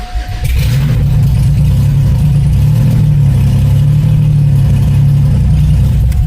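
A 1994 Chevrolet Cavalier starts after a brief crank and settles into a steady, loud, close engine idle running without an oxygen sensor connected, with no talking.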